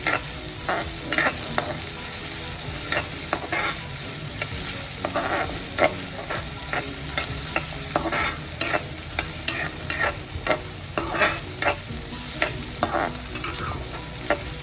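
Pumpkin sabzi with onion sautéing over a high flame, a constant loud sizzle with rapid, repeated spatula scrapes and stirring knocks throughout, close by and with no voices.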